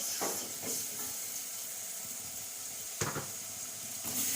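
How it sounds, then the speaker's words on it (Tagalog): Quiet sizzling hiss of carrots and potatoes sautéing in a pan for Kapampangan chicken caldereta, a soft steady background sizzle broken by a few sharp clinks of a utensil stirring. "Gisa-gisa lang yan guys. Carrots at patatas lang."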